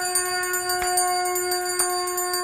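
A small hand bell rung during a Hindu aarti, a steady series of bright metallic strikes with sustained ringing tones, fairly close and clear, with no voices over it.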